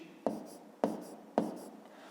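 Pen writing numbers on paper for a fifth-grade maths exercise, three quick close scratchy strokes evenly spaced about half a second apart.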